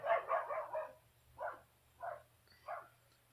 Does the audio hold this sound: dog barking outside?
yes